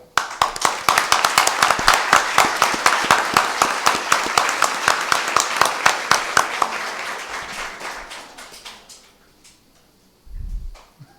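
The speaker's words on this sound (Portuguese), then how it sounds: "Palmas para a PAI" Rhythmic unison clapping in a city council chamber session, loud, close and steady beats that slow and fade out around eight seconds, followed by near silence and a brief low thump.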